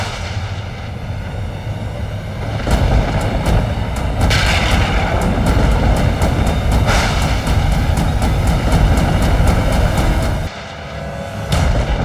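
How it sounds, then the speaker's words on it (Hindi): Deep rolling thunder rumbles from stormy clouds overhead, a heavy continuous low roar with booming surges that swell and fade, loud and alone without any voices. "ये कैसी गड़गड़ाहट है?"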